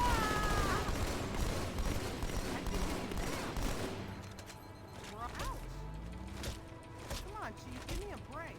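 Gunfire in Halo MCC, a rapid, rattling burst of automatic fire at first, then scattered shots and sharp game effects as the volume eases, with a voice talking over it in places.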